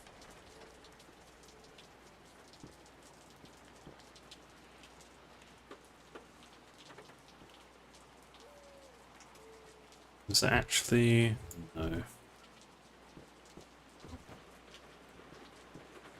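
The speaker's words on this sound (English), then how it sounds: "Loving the rain ambience in this game." Steady rain patters on surfaces throughout a rainy scene in the video game Peripeteia, with a brief burst of speech breaking in near the middle.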